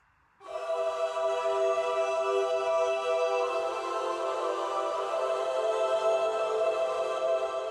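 Two layered MIDI synth patches in Logic Pro X swell in together after a brief quiet moment, holding a bright, dense, sustained chord with shimmering upper harmonics that stays steady and close for several seconds with no voices.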